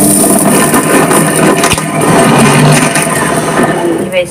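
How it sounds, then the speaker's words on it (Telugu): A kitchen mixer grinder runs loud and steady, grinding a cluster bean chutney with tamarind and salt, its motor whirring and churning continuously with a brief dip near the middle. "మళ్ళీ ఇప్పుడు మిక్సీ పట్టుకున్నానండి"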